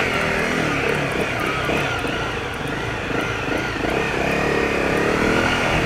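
A Honda CRF 250 Rally motorcycle engine roars loudly and steadily up close as the bike starts to ride off, a dense continuous drone with no voices over it.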